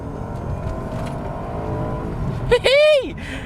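A 2000s Lexus GS 460 V8 luxury sedan accelerates hard, its engine note swelling and then sweeping up and down in a short loud rev near the end. Someone talks over the engine for most of it.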